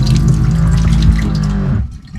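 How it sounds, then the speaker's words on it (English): A small water pump on a floating home hums steadily with running water from a freshwater tap, then cuts off abruptly near the end. "that noise is the water pump"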